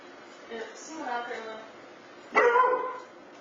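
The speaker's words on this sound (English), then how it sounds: "So first her dog started barking and whining" A dog gives a few short barks and whines in a quiet indoor space, with a louder yelp-like burst near the end and a voice speaking faintly over it.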